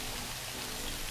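Steady rain falls in the video game Prison Architect, a dense, even hiss of droplets that holds at the same level throughout the short stretch with no voices over it.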